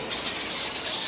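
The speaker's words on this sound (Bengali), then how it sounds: "একটু পাখির কলতান শুনুন" Birds chirp faintly in the leafy, vine-shaded grounds of the Ramakrishna Mission ashram at Mandarmani, a thin steady twitter under a broad hiss of outdoor ambience.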